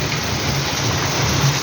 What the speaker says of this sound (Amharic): ማሻአላህ ዝናብ እየዘነበ ነው።